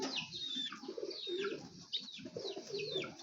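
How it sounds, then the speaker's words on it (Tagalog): Several pigeons coo close by, soft repeated throaty calls overlapping in a steady, murmuring rhythm. "Sobrang dami na rin yung kalapati ko."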